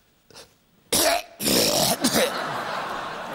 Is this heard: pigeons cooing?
no